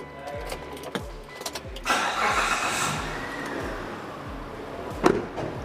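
A 2007 Mitsubishi Pajero Limited cranks with rapid rhythmic starter pulses, catches, then settles into a quiet, low, steady idle, with a sharp click near the end.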